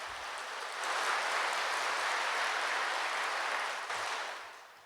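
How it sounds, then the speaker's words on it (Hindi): An audience claps loudly in a hall, a dense, sustained burst of applause that swells quickly, holds for several seconds, then tapers off. "एक बार अपने लिए जोर से ताली बजाओ।"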